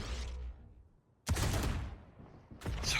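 Gunfire in a Valorant esports match: a burst of shots opens, then a louder volley after a short pause, and another burst at the end, sharp and loud.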